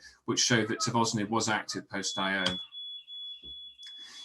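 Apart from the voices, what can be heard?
car alarm going off in the background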